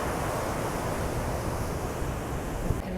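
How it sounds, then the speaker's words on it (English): Fierce ocean waves at an island shore, a dense continuous roar of surf with wind buffeting the microphone, loud and unbroken, no voices. "the ocean's looking a bit fierce"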